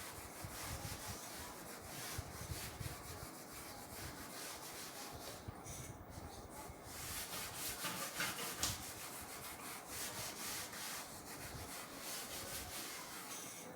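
A chalkboard or marker board is wiped clean by hand in a classroom lecture on numerical methods, giving steady rubbing strokes that continue with a few pauses and louder swipes throughout.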